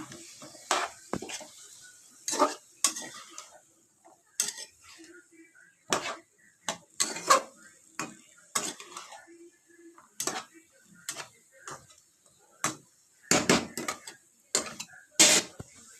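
A spoon stirs a vegetable curry of potato, eggplant, pumpkin and boiled chickpeas in a pan, making a run of sharp, irregular clinks and scrapes against the metal, close and fairly quiet with short pauses between strokes.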